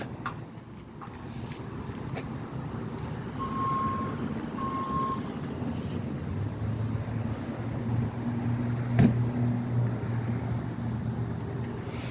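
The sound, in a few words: tow truck reversing beeps while hooking a pickup truck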